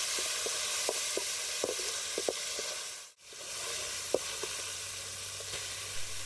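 Herbs sautéing in a pan with ginger-garlic paste and curry leaves for a chicken bread omelette, giving a steady soft sizzle broken by small crackles and pops, with one brief dropout midway.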